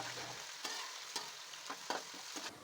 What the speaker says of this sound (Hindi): अब हम इसमें लहसुन, अदरक और सब्ज़ मिर्च कूटी हुई डाल देंगे।